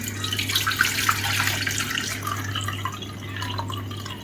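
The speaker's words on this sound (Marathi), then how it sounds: "आता यातील सर्व पाणी मी काढून घेत आहे" Steady running water trickles and splashes continuously as soaked masoor lentils drain through a mesh into a pot, close and moderately loud with no voices.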